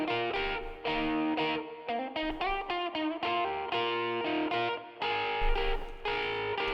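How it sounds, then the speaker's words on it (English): A high lead electric guitar through an American Lead Mark III amp model with overdrive plays a busy melodic line of quick bending notes, bright and gritty with distortion, clear and close without any speech. "That's made out of the American Lead Mark III and some overdrive."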